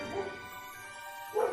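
A dog in a cartoon treasure hunt at an old mansion gives two short barks, one at the start and one near the end, with a quiet gap between.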